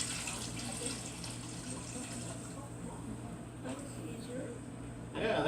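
Steady pouring water splashes continuously into a cooking pot, a constant rushing sound with a faint low hum underneath.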